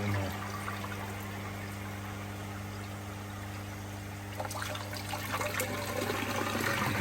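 Koi pond filter filling with water after a valve is opened, a steady rushing pour with a low hum underneath that grows slightly louder and more turbulent toward the end.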